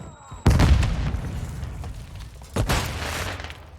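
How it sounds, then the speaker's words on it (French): A Semtex grenade goes off in a first-person shooter: a sudden deep boom followed by a rumbling tail, then a second blast a couple of seconds later, loud and close. "Semtex lancé."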